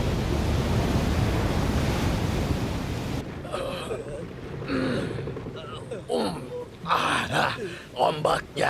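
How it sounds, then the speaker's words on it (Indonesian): Ocean waves in an anime episode roar as a loud, rushing wash of surf for a few seconds, then fade beneath voices talking. "Ombaknya cuma segitu saja."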